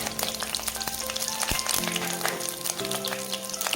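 Green chillies and garlic frying in butter, a close, steady crackling sizzle with a few spoon knocks, a low hum running underneath and no talk.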